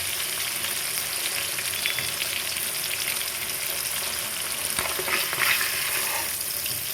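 Hilsa fish pieces fry lightly in oil in a pan, giving a steady, close sizzle with soft crackles and occasional stirring or turning sounds, and no talking.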